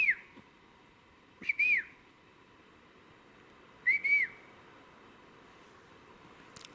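Three short, clear whistles, each a quick rising-and-falling note, sound from some distance in quiet woodland, spaced a couple of seconds apart over faint steady background noise.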